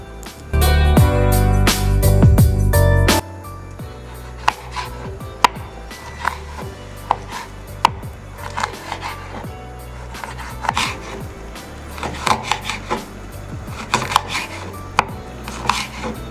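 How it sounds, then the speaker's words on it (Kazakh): Hot chili pepper being chopped on a board with a knife, a loud clattering burst of blows at the start followed by sharp, irregular close-up cuts and scrapes, no talk. "ашты перецті майлап турап, оны үстіне салуды жөн көрдік"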